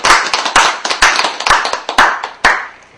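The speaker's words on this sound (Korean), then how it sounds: "박수 치고 마치도록 하겠습니다" Applause from participants at the close of an online supervision meeting: a few people clapping unevenly in several bursts, close and fairly loud, with no talking.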